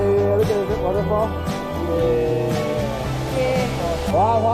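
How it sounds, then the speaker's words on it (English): A steady roar of falling water from the Tengkil waterfall runs throughout, loud and continuous, with voices talking and exclaiming nearby on top of it. "look at the waterfall"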